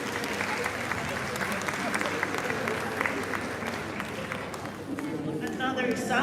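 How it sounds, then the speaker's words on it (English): Audience applause at a Women In Film event, a steady wash of clapping with crowd murmur that continues evenly, with voices rising near the end. "Another resounding round of applause."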